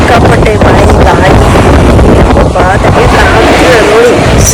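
Wind buffets the microphone in a heavy rainstorm, a loud continuous rumbling roar that fills the whole clip with no pause.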